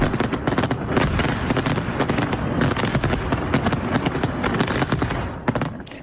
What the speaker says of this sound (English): Fireworks and drones lit up the Eiffel Tower as part of France's Bastille Day celebrations.